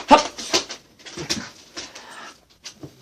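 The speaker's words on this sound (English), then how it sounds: "This is my dog." A small, excitable dog whimpers and pants close by in short bursts, with soft high whines and breathy huffs spread across a few seconds.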